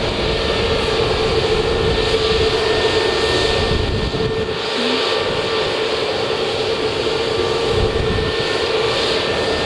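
Airbus A320neo jet engines roar steadily at close range at Manchester Airport, a dense broadband whine with a high tonal edge that holds at constant loudness throughout, no voices present.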